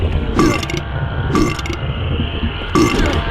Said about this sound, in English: those tall ladies who burp every time you hit them